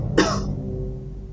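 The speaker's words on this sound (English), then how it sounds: "Sorry, I had to cough." A single sharp cough close to the microphone, followed by quiet background hum.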